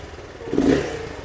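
A BSA Gold Star 650 single-cylinder thumper revs briefly, a short throttle blip that swells and fades, close by and on its own.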